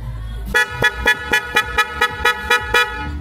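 A motorcycle dual horn being tested honks in a quick run of about ten short, loud toots at an even pace, close by, without speech.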